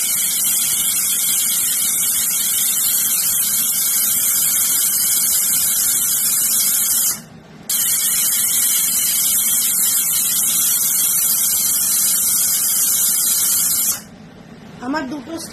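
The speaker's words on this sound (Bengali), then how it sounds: "আমার 2টো স্টিম মারা হয়ে গেছে।" A pressure cooker loudly vents steam while cooking a vegetarian young jackfruit curry, a strong steady hiss that cuts out briefly twice, the second time near the end.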